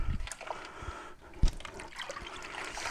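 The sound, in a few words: water draining from a sink after pulling the plug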